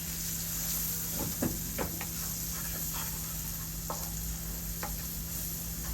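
Ginger, garlic and chilli powder stirred in a frying pan, a steady hiss of sizzling oil with a few soft scraping strokes of a spoon, close and continuous.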